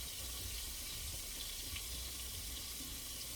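Tap water pours steadily into a kitchen sink as hands are washed, a faint, even, continuous rush with no voices.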